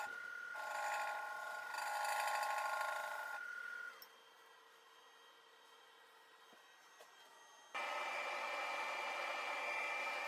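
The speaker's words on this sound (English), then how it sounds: "I also have my dust collector chute there with my dust collector going" A woodturning shop's dust collector whirs at moderate volume, cutting off midway and leaving a quieter hum, then surging back on abruptly near the end.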